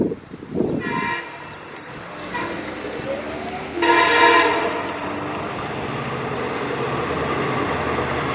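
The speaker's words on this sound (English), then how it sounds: "there's a train coming." Long Island Rail Road train passing a grade crossing at Bay Shore station, horn blasts sounding over the rumble of the approaching train, fairly close and loud, with crossing noise continuing underneath.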